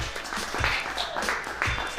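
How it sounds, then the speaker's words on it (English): A small group applauds, with dense clapping and cheering, steady and fairly close, with some voices mixed into the noise. "that deserves a round of applause"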